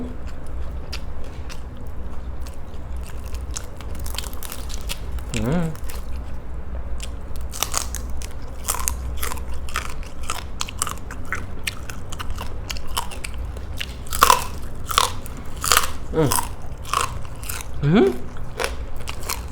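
Crispy fried tilapia bitten and chewed up close, with repeated loud crunches and crackles in an uneven rhythm over a low background murmur.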